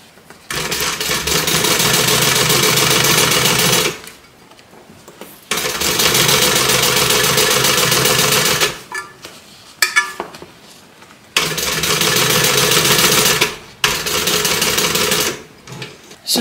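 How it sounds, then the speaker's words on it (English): A sewing machine runs in three long, loud bursts of rapid stitching while closing a pocket on a bag, with short quiet pauses and light handling clicks between them. "I'm just going to stitch this closed"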